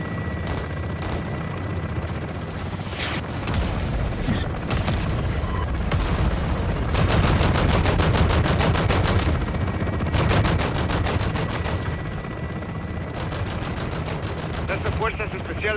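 Helicopter gun run in the Call of Duty: Modern Warfare II campaign: sustained bursts of rapid automatic fire and heavy booms over a constant rotor-like drone, loud and dense, with brief radio voices mixed in.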